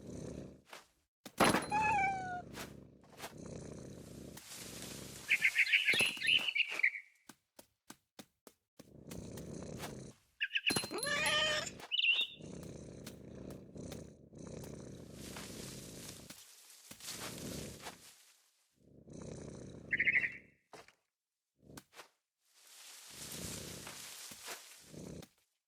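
A cat in the video game What Remains of Edith Finch meows and purrs over about half a minute, with low rumbling purr stretches alternating with a few clear, close meows and short quiet gaps.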